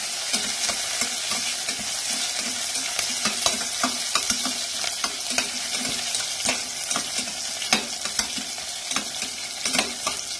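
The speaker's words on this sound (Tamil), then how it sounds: "ஆனியன் ஆட் பண்ணி நல்லா அது பச்சை வாசனை போகிற அளவுக்கு நம்ம நல்லா வதக்கி விட்டுக்கணும்" Onions sautéing in a pan for a moong dal pulao, with a steady sizzle and repeated scraping stirs of the spoon, heard close up with no talking.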